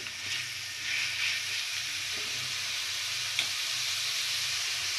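Onions sizzle and fry steadily in a pan while being cooked for a masala mushroom matar curry, a constant close hiss with occasional stirring.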